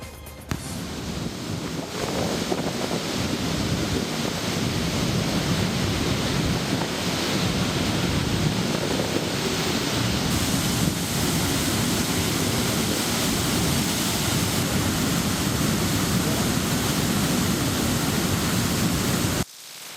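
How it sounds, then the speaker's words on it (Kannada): Water pours from four crest gates of the Kabini dam into the river below, a loud, dense and unbroken roar of rushing water with no voices. "ಜಲಾಶಯದ 4 ಕ್ರಸ್ಟ್ ಗೇಟ್ಗಳ ಮೂಲಕ ನೀರನ್ನ ನದಿಗೆ ಬಿಡಲಾಗ್ತಾ ಇದೆ"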